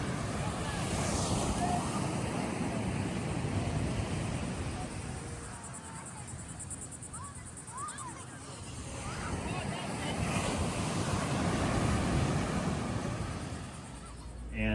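Surf at Wrightsville Beach rolls in with broad rising and falling washes, mixed with wind rumble across the microphone, and a voice speaks briefly in the middle.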